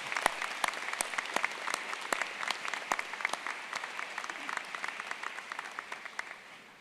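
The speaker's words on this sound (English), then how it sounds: "Let's give them a round of applause." Audience at a university graduation ceremony applauding, a moderate, dense patter of many hands clapping that slowly fades toward the end.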